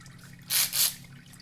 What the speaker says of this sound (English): See how water's coming out now?